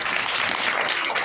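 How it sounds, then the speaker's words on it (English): Hands clap in a quick, continuous patter of light claps from a small group, fairly close and moderately loud, briefly filling the room alone without talk. "Clapping."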